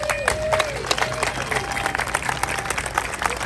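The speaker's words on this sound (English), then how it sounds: "So I'd love to have a big applause for Winnie." An outdoor crowd at a Meyers Manx buggy gathering in Big Bear claps and applauds steadily, a dense patter of many hands with light whistles mixed in.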